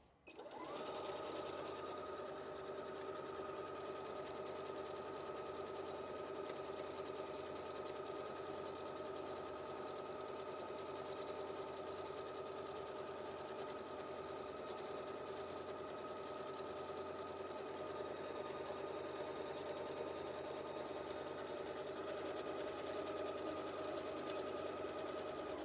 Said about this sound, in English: So now when I sew it, it will start from the beginning.